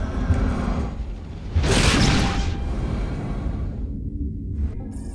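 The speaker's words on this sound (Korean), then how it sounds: "All decks prepare for immediate FTL jump." A spaceship's FTL jump makes a big whooshing rush that surges, then cuts off abruptly into near-silence, with a low rumble underneath.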